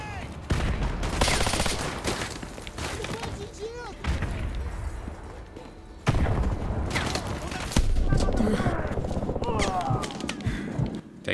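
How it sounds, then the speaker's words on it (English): Gunfire and an explosion in the Fortnite battle royale game, with dense bursts of shots and booming blasts running throughout, loud and near, with talk over parts of it. "I heard a grenade go"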